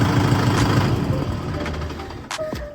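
A tractor pulling a reversible MB plough runs with a loud, steady engine drone whose pitch sags as the RPM drops, closing with a couple of short mechanical clanks.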